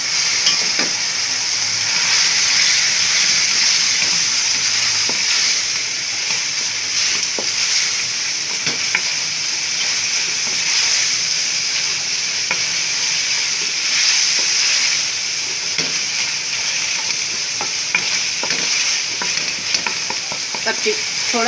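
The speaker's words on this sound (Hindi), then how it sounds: "तब थोड़ा सा चिकन फ्राई हो जाएगा" Chicken pieces fry in a browned spice masala for a bhindi chicken curry, giving a steady, close sizzle with scattered scraping stirs and clicks throughout.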